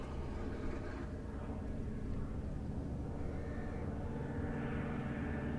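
A Westland Lysander flies past during an evening flying display, its engine a steady, fairly loud drone that holds through the whole clip with no break.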